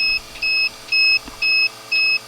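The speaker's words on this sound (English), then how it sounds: "And our power's beeping at us." A power system warns of a low battery, dropping toward 11 volts, with loud, regular electronic beeps, five evenly spaced tones in quick succession over a faint low hum.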